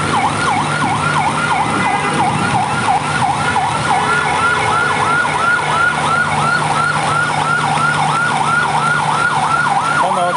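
An ambulance siren wails steadily in a repeating up-and-down sweep along the Dhaka–Mymensingh highway in Gazipur, loud and close throughout, over constant road traffic rumble during heavy rain.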